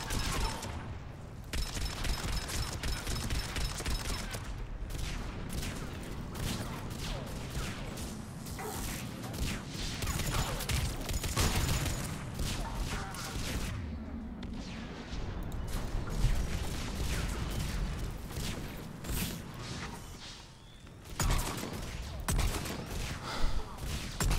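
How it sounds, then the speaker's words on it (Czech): Heavy bombardment and gunfire in the video game Mass Effect 3, a dense, continuous roar of blasts and shots with sharp impacts throughout, loud and unbroken for the whole stretch. "Víš, co to tady bouchá? Jo, oni bombardujou."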